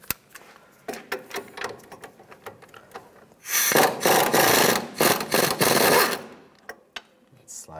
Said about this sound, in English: using a 16 millimeter socket, I'm going to take that off